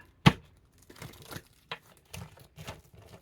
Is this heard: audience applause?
no